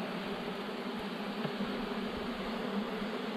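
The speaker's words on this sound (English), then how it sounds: "You're going to have bees up your pants legs." Bees swarming close around a honey-filled hive, a dense, steady buzzing drone that stays loud and unbroken throughout, with no voices.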